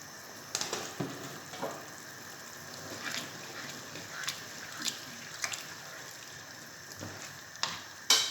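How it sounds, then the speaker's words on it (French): Fish paella rice simmers quietly in a pan under a low, steady sizzle, broken by occasional light clicks and taps of a utensil against the pan. "Et je laisse cuire pour l'instant pour gonfler le riz"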